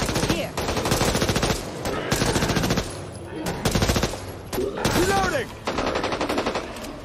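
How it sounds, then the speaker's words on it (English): Rapid automatic assault rifle fire in the zombie shooter game Back 4 Blood, loud close bursts separated by short pauses, with game sounds around them. "Assault rifle."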